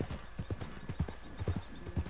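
A horse in the game Red Dead Redemption 2 clip-clops along in a steady rhythm of hoofbeats, close and moderately loud, with a brief whinny woven in and no talking.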